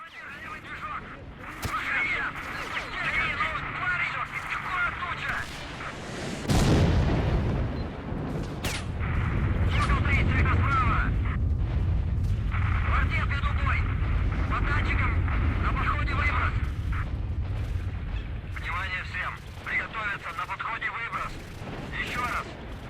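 A grenade blast and bursts of gunfire in S.T.A.L.K.E.R. Shadow of Chernobyl: a loud, heavy boom partway through, then a sustained low rumble with crackling shots, all under steady game ambience.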